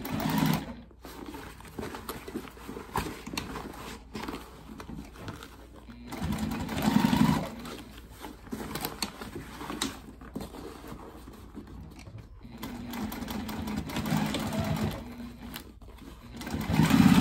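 A sewing machine stitches a bag with the pockets flipped toward the bottom, running in a few close, moderately loud whirring bursts. Handling noise and faint background sounds fill the gaps.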